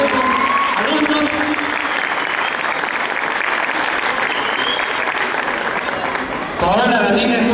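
Audience applause for ballet dance teachers at a ballet school presentation, a steady dense clapping crowd lasting several seconds, with a voice speaking briefly at the start and again near the end.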